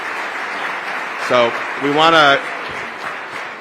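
An audience applauds steadily at a Justice Department Civil Rights Division event commemorating Martin Luther King Jr., with a speaker's voice briefly cutting through the clapping.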